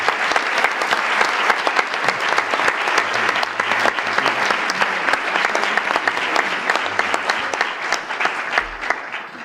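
Steady applause from a large audience at a university academic ceremony, dense clapping continuing evenly throughout without pause.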